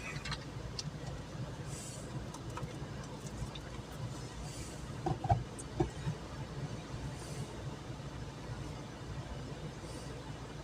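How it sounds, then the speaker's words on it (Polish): From a car queued at a railway crossing in Muszyna, a train rumbles past with a steady low roar and faint rail clatter, a couple of louder thumps midway, heard from inside the vehicle. "pociąg jedzie"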